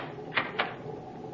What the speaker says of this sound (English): You may lock the door now.